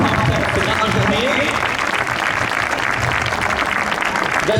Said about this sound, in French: on peut les applaudir aussi pour qu'on ait cette grande journée